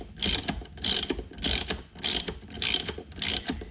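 A hand ratchet tightening the steering wheel nut on a C7 Corvette, six even bursts of rapid clicking strokes at about one per second, close and clear with no talking.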